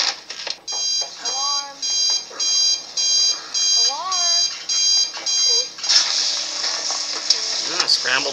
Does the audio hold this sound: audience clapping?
no